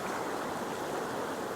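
Hunters Creek in Rocky Mountain National Park rushing along a hiking trail, a steady, full-bodied stream roar that holds even and close for the whole short stretch without voices.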